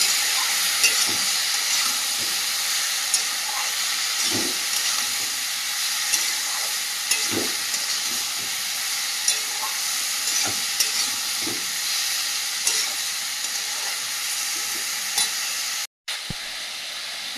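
Ginger and cumin paste sautéing in a pan while preparing a koi fish dish: a steady, bright sizzle close up, punctuated by soft scrapes and taps of a spatula, no talking.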